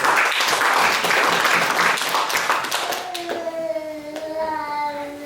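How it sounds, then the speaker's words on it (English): An audience at a church service gives a burst of hand-clapping applause that fills the first three seconds, then fades as sustained musical tones take over. "Let's give a clap for our people."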